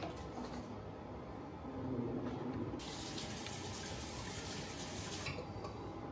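Tap water runs steadily into a sink while flowers are washed, a close, continuous hissing splash that grows brighter partway through and then softens again, with no talking.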